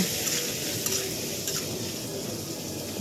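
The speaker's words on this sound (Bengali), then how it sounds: "এরপরে দিয়ে দেবো চিংড়ি মাছ পেঁয়াজ এগুলো দিয়ে একত্র করে" Prawns and onion fry in a pan with a steady, even sizzle and faint stirring scrapes, close and continuous with no talking.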